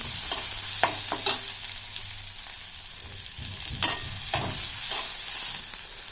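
Garlic and spices sizzle softly in a pan while a spoon scrapes and stirs, with a few sharper clinks against the metal.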